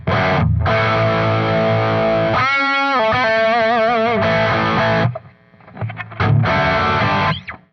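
Heavily distorted electric guitar from the 6-string side of a double-neck instrument, loud chugging chords broken by a bent, vibrato-laden lead phrase, then a short pause before more crunchy riffing, with no voices.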